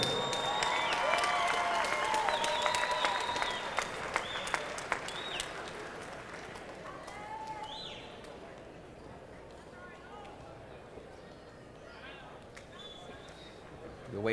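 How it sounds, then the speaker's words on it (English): Applause from an audience at an MMA fight, loud at first and gradually fading over about fourteen seconds, with crowd noise and some voices mixed in. "give me a big round of applause for these two fighters"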